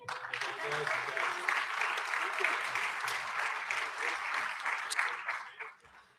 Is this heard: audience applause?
yes